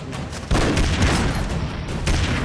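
Rapid gunfire and explosive booms in the side-scrolling action game Broforce, loud and continuous with dense overlapping shots and blasts, with no talking.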